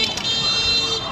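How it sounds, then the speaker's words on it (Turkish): Car horns blare in steady sustained tones through Chinese city street traffic, loud and close, with people talking over them. "Acayip korna kullanıyorlar."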